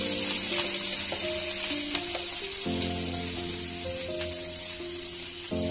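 Ginger and garlic frying in oil in a pan, a constant close sizzle with light stirring clicks, no voices.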